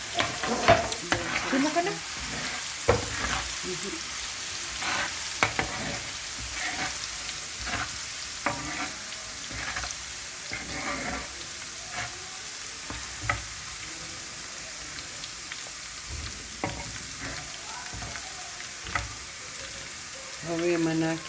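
Food sizzles and fries in a tava while a utensil stirs and scrapes it with steady, repeated strokes, loud and close; a voice speaks briefly over the cooking.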